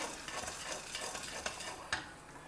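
Roasted gram dal (puttani dal) being stirred in a pan, giving a soft, continuous dry rustling and scraping with a few sharper clinks near the end, quiet and without talk.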